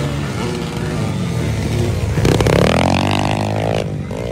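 Motorcycles of 150cc and larger race past, their engines droning loudly and then rising sharply in pitch as one accelerates, under an excited commentator's voice.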